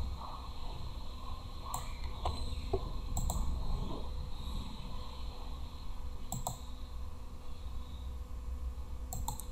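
Computer keyboard shortcuts and mouse clicks during design work in CorelDraw, sparse sharp clicks in small clusters over a faint steady background hum, quiet and close.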